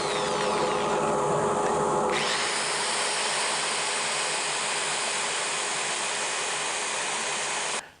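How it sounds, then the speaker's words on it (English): A cherry wood bowl is sanded on a spinning lathe with fine grit paper, a loud continuous motor whir and sanding rush that runs unbroken before cutting off at the end. "Sanding time! Everybody's favorite activity."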